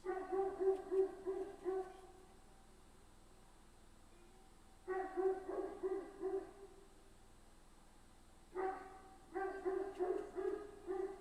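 A small dog barks in three separate bursts of quick, yappy barks with quiet pauses between them, fairly close and clear.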